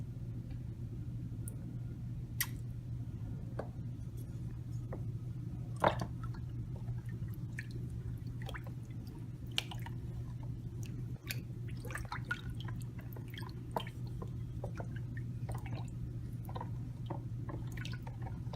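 Soft, scattered wet drips and squishes over a steady low hum, like liquid dye being squeezed from a bottle into water for dyeing yarn, quiet and close.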